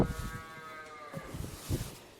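Cows in a barn whose bedding stalls are disinfected with lime, giving a low drawn-out moo with soft shuffling and thuds around it, moderately close, with no talk.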